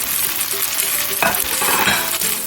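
Onion and chopped tomato fry in a hot pan while cooking a chicken curry, with a steady, loud sizzle and stirring scrapes running throughout and no voices.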